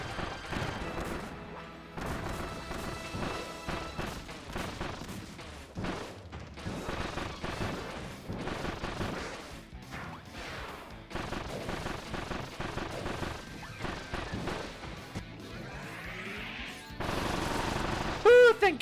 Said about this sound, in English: So Magolor cannon for this guy.